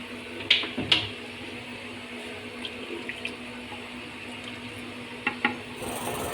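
About two litres of water pour into a clay pot of beef pulao, a steady splashing flow punctuated by a few sharp knocks against the pot.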